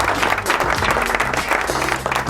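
Applause on a podcast set welcoming a guest, a short burst of loud, dense clapping over a low steady hum.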